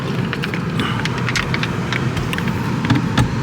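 Steady road noise and engine hum from inside a moving car on a holiday drive in Crete, with faint rattles and bumps over the continuous rumble.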